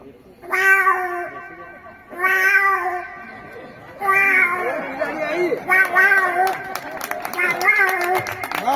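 A person imitates one cat calling another, several long drawn-out mews followed by quicker, overlapping yowls like a squabble, with a crowd faintly reacting.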